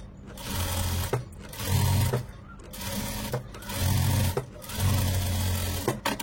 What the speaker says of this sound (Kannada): ಇದನ್ನು ಕೂಡ ನಾನು 2 ಸ್ಟಿಚ್ ಹಾಕ್ಕೊಳ್ತೀನಿ.